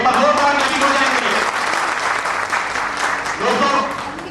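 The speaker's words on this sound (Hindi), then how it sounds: "एक बार जोरदार ताली हो जाएगी।" A crowd applauds loudly and continuously to welcome guests from a company at a program, a dense wash of clapping with voices faintly audible underneath.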